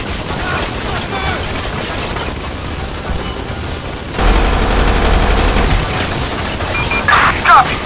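Gunfire in LSPDFR, a GTA V police mod game, with rapid shots and booming bursts that grow heavier and louder partway through, backed by a dense, busy game soundscape.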